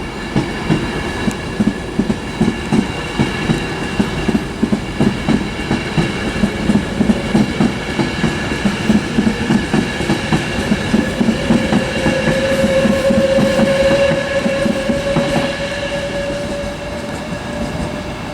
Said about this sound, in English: So there goes that one to Birmingham New Street.